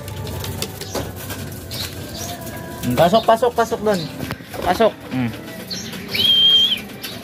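Racing pigeons at a club loft coo and call with bursts of wing flapping as they are herded inside before training, while someone speaks close by.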